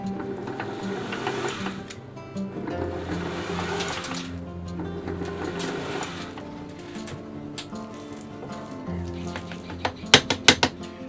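Mashed potato and vegetables for bubble and squeak slowly mixed in a bowl, soft scraping and squelching strokes followed by a few sharp taps at the end.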